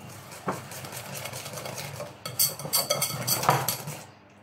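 A whisk works through feta and courgette cake batter in a bowl, with close, irregular scraping and tapping against the sides that grows busier toward the end.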